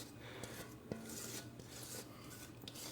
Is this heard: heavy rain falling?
no